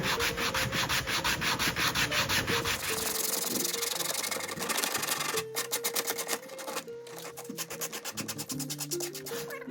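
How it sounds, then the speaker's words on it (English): Steady abrasive rubbing of a sanding sponge against a wooden guitar body, continuous scratchy strokes close up, shifting in texture partway through, with no talking. "I'm using a sanding sponge on this"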